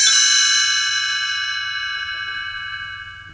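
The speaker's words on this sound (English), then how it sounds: "You will know it is time to turn the page when you hear the chimes ring like this" Bright chime on a Gummy Bears read-along story recording, a single clear ring with many sustained tones that slowly fade over a few seconds, heard alone and close.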